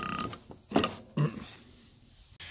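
Allen key turning and backing out O-ring bolt plugs on a fuel filter bowl of a 1999–2003 Ford 7.3L diesel, heard as a few close metallic creaks and clicks in separate bursts, with no talking.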